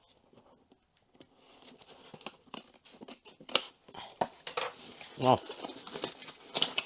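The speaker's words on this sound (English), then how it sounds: "So we'll have to cut them." Scissors snipping through the plastic tabs on the packaging of a OneXPLAYER OneXfly handheld, giving scattered close clicks and cuts with occasional handling rattles and a brief spoken word.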